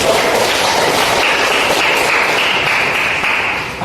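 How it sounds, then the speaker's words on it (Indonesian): A school classroom full of students clapping together, a dense steady patter of applause that stays even before tapering off slightly at the end. "Ya, tepuk tangan."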